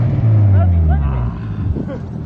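A Nissan R32 Skyline holding a tyre burnout, its engine droning loud and steady at high revs, then easing off slightly toward the end.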